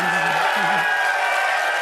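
An audience at a live Xbox showcase event in London applauds steadily, with a dense, even patter of clapping and a faint voice underneath.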